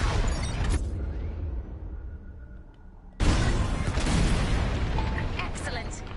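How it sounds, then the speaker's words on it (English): Bombs exploding in the Star Wars Squadrons video game, heavy booming blasts with a dense rumbling wash that drops away briefly and then surges back loud, with voices talking through parts of it. "On my mark, it's bombs away."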